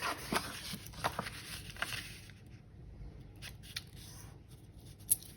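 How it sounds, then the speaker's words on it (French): A paper card is folded and creased, giving a few sharp crinkles and soft scraping strokes close up in a quiet room. "Je vais faire le pli, les pliures."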